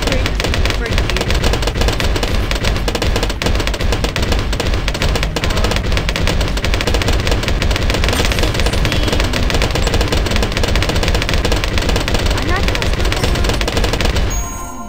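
Rapid, dense, continuous firing from a dartling gun in the Bloons TD 5 video game, loud and unbroken for about fourteen seconds, with a voice talking over parts of it.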